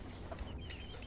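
Soft clucking from chickens close by, over a steady low background hum.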